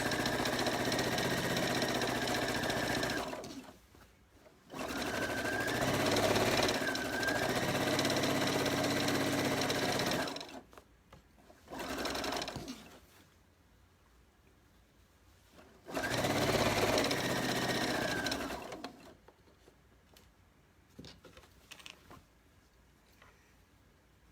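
A sewing machine hems a straight piece of fabric for a children's t-shirt dress, running in three loud, steady whirring bursts separated by short quiet pauses, close by and with no talking.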